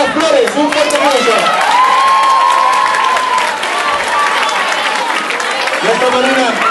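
Applause and cheering from an audience at a Christmas 2009 gathering, a steady loud wash of clapping with children's voices shouting over it throughout.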